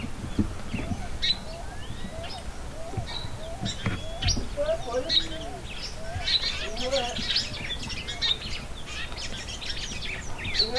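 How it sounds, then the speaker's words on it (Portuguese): Small wild birds chirping and tweeting as they gather to be fed at a rural countryside feeding spot, many short calls overlapping in a steady outdoor chorus at moderate distance. "E aí os passarinhos estão chegando."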